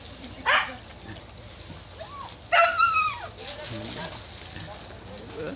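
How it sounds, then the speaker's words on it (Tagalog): A dog on Burias Island lets out two short yelping barks, close by and fairly loud, over quiet outdoor background. "Yan yung aso, gusto sumama."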